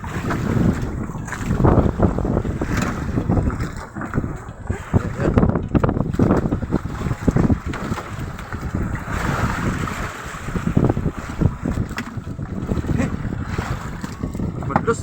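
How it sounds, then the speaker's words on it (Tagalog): Large waves surging and crashing against a boat at sea at night, with constant wind buffeting the microphone and faint voices in the background. "Malaki na yung alon"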